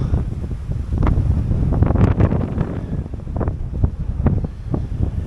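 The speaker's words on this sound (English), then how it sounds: "Windy and cold view." Gusty, cold wind on the Atsumi Peninsula in Aichi, Japan buffets the microphone with low, rumbling roars that swell and fade, steady throughout with no voices.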